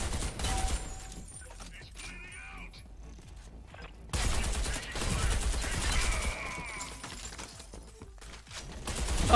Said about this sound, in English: Oh no, not a shotgun